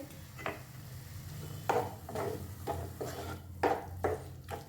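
Peas go into a pan and are stirred, giving several short scraping strokes of a utensil against the pan over a faint, low sizzle.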